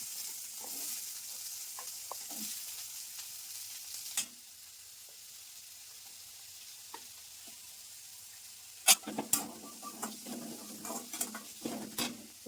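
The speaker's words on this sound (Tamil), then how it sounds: "சின்ன வெங்காயம் வறுக்கிறேன்" Small onions (shallots) frying in oil for a mushroom curry: a faint hiss of sizzling, a quiet stretch, then a burst of close scraping and tapping stir strokes over the low frying sound.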